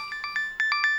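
A phone rings from an unknown number: a short electronic ringtone of six quick bright beeps in even rhythm, moderately loud and alone.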